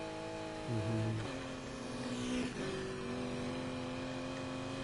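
Revving engine of a fully upgraded car in a video game, rising and falling in pitch with a couple of throttle surges, steady and close throughout.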